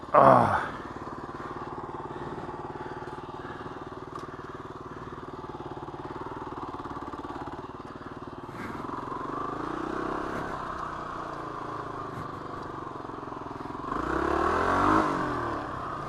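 A Kawasaki KLR 250 motorcycle engine runs steadily just after a carburetor rebuild, a low, even idle with mechanical clatter, a brief loud burst at the start and a rise in revs near the end, heard alone at close range.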